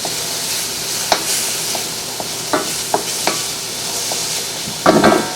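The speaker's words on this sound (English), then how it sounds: "handy dandy wooden spoon here, stir it up a little bit" Wooden spoon scraping and stirring food in a pan on an indoor rocket stove, a steady sizzle underneath with scattered scrapes and a louder clatter near the end, close by and alone.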